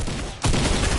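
Sniper gunfire in the Fortnite battle royale video game: a sudden loud crack midway through, followed by dense, sustained rumbling reverberation, with no talking.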